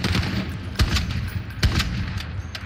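Rytec AMR anti-materiel rifle firing explosive rounds in Call of Duty: Modern Warfare, two heavy, booming shots about a second apart over a constant dense background of game noise.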